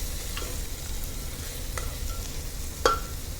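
Onion and tomato with Kashmiri red chilli fry in a pan for a mutton curry, giving a steady, close sizzle. A few light utensil clicks sound, with a sharper tap near the end.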